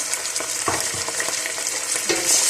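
Half a kilo of mutton fries with browned onions for karahi, giving a loud continuous sizzle punctuated by repeated spatula scrapes and clanks against the pan.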